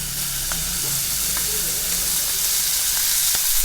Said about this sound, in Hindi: अब हम इसमें लहसुन के जवे और मक्खन डालेंगे।